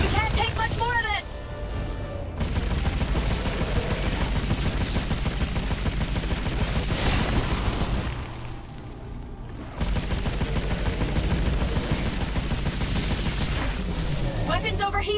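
Sci-fi gunfire from a VR shooter game, with long rapid automatic bursts of shots and a short lull before the firing resumes, while a voice speaks over the din.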